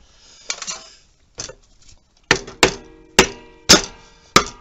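Hammer tapping a flat screwdriver into a scooter clutch variator, several sharp metallic strikes, at first spaced apart and then in a quicker series of five or six, close and clear with no talk.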